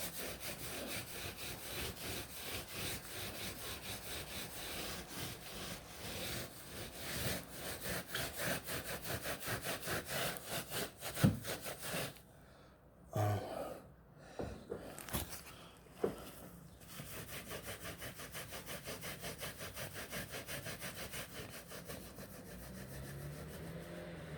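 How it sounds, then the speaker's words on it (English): A wooden surface being scraped in rapid back-and-forth strokes, a dense rasping rhythm that runs steadily, breaks off briefly in the middle with a few knocks, then resumes at a close, moderate level. "now I gotta scrape it so I'll make sure"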